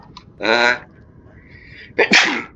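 A loud, close sneeze bursts out, followed after a brief pause by a second sharp sneeze-like outburst.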